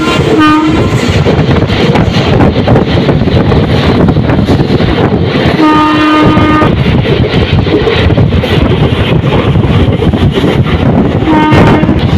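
The Narasapur Express rumbles steadily along the rails with wind buffeting the microphone, slowly pulling into a junction, and a horn sounds in short blasts near the start, middle and end.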